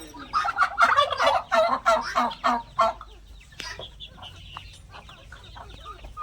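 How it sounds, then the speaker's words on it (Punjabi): A burst of loud, rapid clucking and squawking from young roosters of assorted breeds for a few seconds, then quieter scattered calls and rustling. "ਛੋਟੇ ਮੁਰਗੇ ਸਾਰੇ ਕਿਸਮ ਦੇ"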